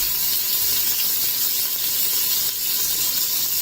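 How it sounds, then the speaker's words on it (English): Butter sizzling in hot olive oil in a pot: a steady, continuous bright hiss and crackle that holds at an even level throughout, with no talking. "So I have some olive oil in my pot right now, so I'm going to add a little bit of butter as well."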